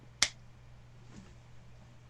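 A single sharp finger snap rings out close and clear near the start, followed by quiet room tone with a low steady hum.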